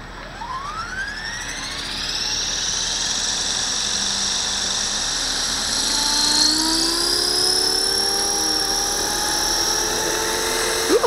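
A Walkera V450D01 RC helicopter spools up its rotor, its whine rising steadily in pitch as the blades gain speed, loud and close, with no voices over it.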